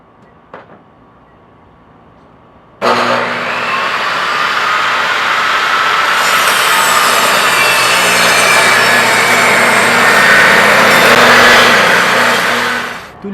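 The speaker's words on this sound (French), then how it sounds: "On va couper des strips" A power saw starts abruptly after a quiet moment and cuts steadily through wood strips for a garden trellis, a loud, close, sustained rasping whine that holds for about ten seconds before tapering off.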